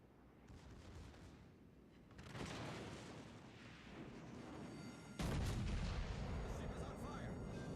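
Naval gunfire in the World of Warships Legends video game, with rumbling cannon salvos and a heavy boom as a second volley lands, rolling over a constant low engine drone, with faint talk mixed underneath.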